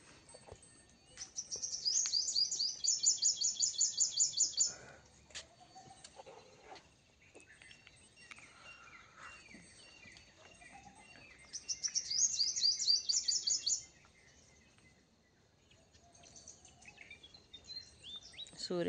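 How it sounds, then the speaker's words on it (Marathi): Birds chirp in the early morning outside a home garden, in two clear bursts of rapid, high trilling tweets, fairly close, with quiet ambience between them. "पक्ष्यांचा किलबिलाट चालूच आहे बघा."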